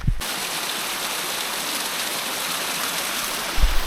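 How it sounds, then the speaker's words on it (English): Rushing water from a waterfall swollen by a rainstorm along a mountain trail in Shenandoah, a steady broadband roar that stays constant throughout, with a brief thump at the start and near the end. "one of the benefits of this beautiful rainstorm is we get more waterfalls"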